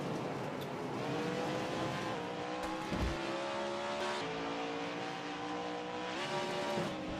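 Stadium Super Trucks race at an island rally event, with continuous loud engine roar, shifting revs and passing trucks blending into a dense, steady wash of motor noise with no voices.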